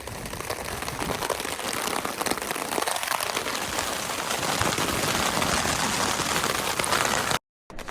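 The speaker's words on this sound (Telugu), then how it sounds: "సడన్గా వర్షం పడి మొత్తం తడిసిపోయినా." Sudden heavy rain pours on a riverside camp, a dense, steady hiss of drops drumming on the tent and ground that stays loud and unbroken for several seconds before a brief cut.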